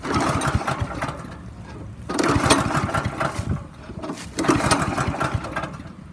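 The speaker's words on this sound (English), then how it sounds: "I just pulled the string and it turns over, no start." A Wacker BPU2950A plate compactor engine is pull-started three times, each pull giving a rapid chugging turnover of a second or two that never catches, loud and close with short pauses between.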